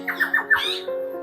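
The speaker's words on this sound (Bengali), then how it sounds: "এগুলো কিন্তু বিভিন্ন রকমের প্যারট।" Several kinds of parrots squawk at close range at a wildlife park in Bangladesh, four quick harsh calls in a row followed by a lower, drawn-out cry, with no talking.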